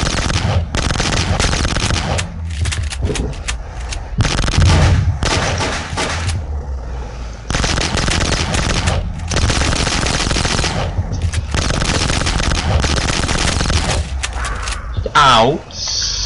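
Rapid bursts of gunfire in the Box Head 2 zombie shooter, sharp shots repeating in long runs across most of the stretch, loud and close, with players talking and shouting over the shooting.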